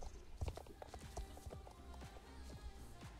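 Faint horse hooves in the video game Star Stable Online thud in a quick, uneven gallop rhythm, quiet and continuous through the short stretch.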